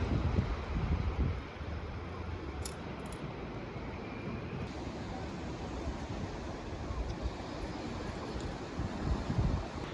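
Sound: rough sea waves and wind

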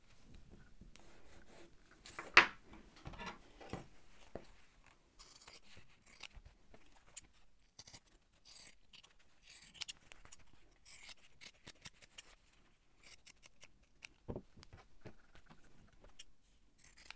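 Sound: scissors cutting two pieces of fabric

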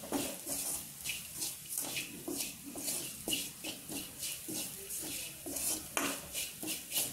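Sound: sautéing chili powder in a pan for beef ularthiyathu

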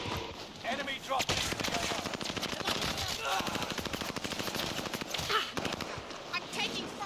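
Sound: gunfire in a shooter video game

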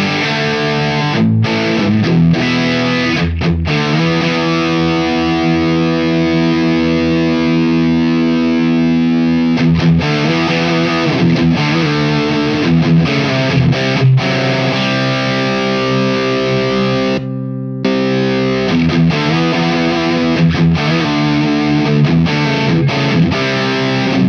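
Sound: guitar through Wampler Pantheon Deluxe overdrive pedal at highest gain

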